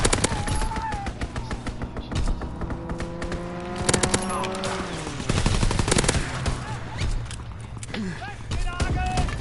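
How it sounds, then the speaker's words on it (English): Fighter plane strafing run in Call of Duty WW2, rapid bursts of machine-gun fire rattling over a roaring aircraft engine amid loud game chaos, with people talking throughout. "Strafing the target."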